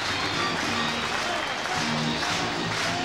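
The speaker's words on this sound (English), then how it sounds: "An expectant Rugby Park crowd." Football crowd at Rugby Park stadium for Kilmarnock against Rangers, a dense, continuous roar of spectators with scattered applause and a commentator speaking over it.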